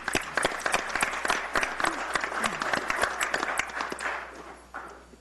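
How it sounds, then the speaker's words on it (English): A room full of people at a town council meeting claps steadily for several seconds, then the applause thins out and fades away near the end. "one more round of applause"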